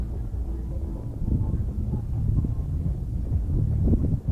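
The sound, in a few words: wind blowing outdoors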